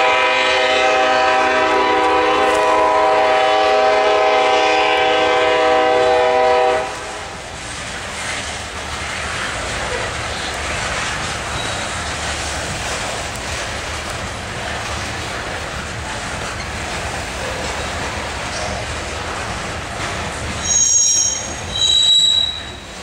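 Norfolk Southern freight train NS 52V pulling out of a yard with a CP ES44 locomotive in the consist. A loud drawn-out horn blast gives way to steady rumbling and grinding wheel noise, then brief high squeals near the end.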